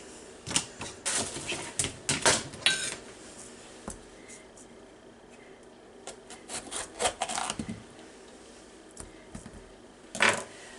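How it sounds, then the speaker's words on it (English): Knife chopping green pepper and onion on a cutting board, a series of sharp irregular taps and clusters, fairly close, with quiet pauses between bursts. "we're going to cut up the green pepper and the onion, dice it up"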